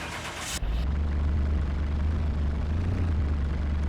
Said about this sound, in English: sounds like it's got an exhaust leak